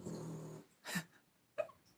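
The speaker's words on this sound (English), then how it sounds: "can you guys hear Copper snoring" A dog snores and snorts softly, a low rumbling breath followed by two short nasal snorts, close and quiet.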